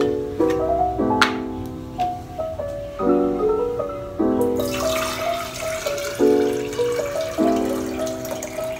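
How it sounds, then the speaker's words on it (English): A liter of sterilized or distilled water pours steadily into a clean container, the stream's pitch rising in repeating harmonic steps as the vessel fills, with a brighter splashing wash joining midway, close and alone. "pour a liter of sterilized or distilled water into the clean container"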